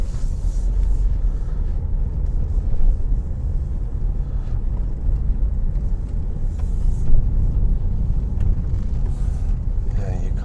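A car driving slowly along a narrow, winding country road in Derbyshire's Peak District between Crowdecote and Hollinsclough, with a steady low engine and road rumble and some wind buffeting, while people talk inside.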